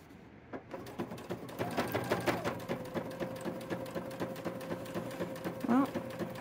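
Sewing machine stitching a welt pocket with flap on a trench coat, running in a steady rapid rhythm of needle strokes with brief speed changes, close and fairly loud throughout.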